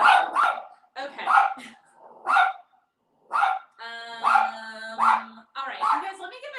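An excited pet dog barks and yips in short, sharp bursts, fairly close, with pauses between volleys and a whining, tonal bark near the end.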